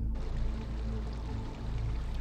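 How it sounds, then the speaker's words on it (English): Water pours from a pipe in a video game, a steady broadband rushing stream with a low rumbling bed throughout, heard alone without talk. "What a great water effect coming out of this pipe."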